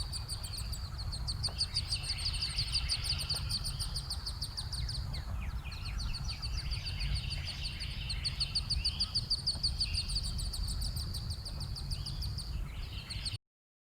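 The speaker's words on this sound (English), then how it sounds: "I shouldn't have filmed these baby ducks." Ducklings peep in rapid, high repeated chirps that run steadily throughout, near and fairly loud, over a constant low outdoor rumble with no talking.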